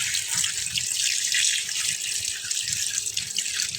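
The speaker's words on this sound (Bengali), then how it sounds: "দেখুন শাকগুলোকে আমি খুব ভালোভাবে ধুয়ে নিচ্ছি।" Leafy greens for a Bengali vorta are rinsed by hand under a running tap, with a steady close splash of water and small bursts of rustling and dripping.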